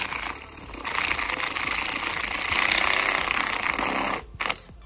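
A power drill bores holes through PVC pipe while building a DIY chicken tractor, a rough buzzing motor whine that ramps up, holds steady for several seconds, then cuts off with a short rattle.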